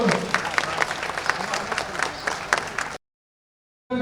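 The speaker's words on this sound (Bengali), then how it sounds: "বড় হাততালি সবাই মিলে একবার" An audience at a youth sports ceremony claps together for about three seconds in dense, fairly loud applause. It then cuts to silence before a brief burst of sound returns.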